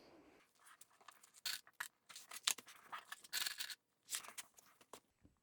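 Scissors trim fabric for a sewn bag, a series of quiet, close, crisp snips and rustles in irregular bursts against a near-silent background.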